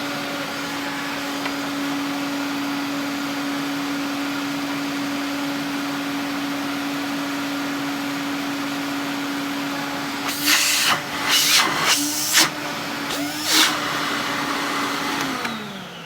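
A vintage Electrolux 330 cylinder vacuum cleaner runs steadily with a constant motor hum and whine, then its pitch wavers and surges near the end as airflow changes.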